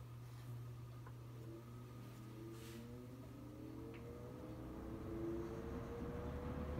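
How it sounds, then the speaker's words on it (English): A late-1970s Lasko Model 4746 20-inch box fan with thermostat runs with a faint, steady motor hum, and whining tones slowly rise in pitch over low background noise. "As you can hear, it does have a pretty good motor whine."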